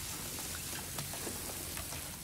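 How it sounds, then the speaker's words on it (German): Rain pours in The Forest survival game, a dense, even hiss of drops on surfaces with a few distinct droplet ticks, steady and close throughout. "wenn es eben dann so regnet."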